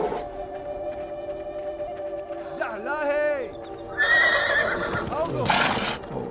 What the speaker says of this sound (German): Das Pferd, von dem haben wir geträumt.